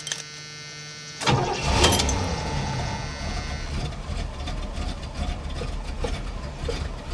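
Oldsmobile Toronado engine cranking and firing up, a loud starting surge that settles into a steady rough idle, heard close from inside the car.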